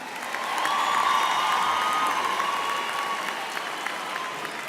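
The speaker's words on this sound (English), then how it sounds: "A round of applause, colleagues, for Prof. Chita." Graduation ceremony audience at a university applauds a professor, a broad wash of clapping that swells, then holds steady, with faint cheering and a brief tonal whistle-like sound mixed in.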